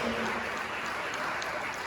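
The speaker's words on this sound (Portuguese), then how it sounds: "Bate as palmas para Jesus Cristo" Church congregation clapping for Jesus Christ during a worship service, a dense, steady wash of applause filling the whole moment without a break.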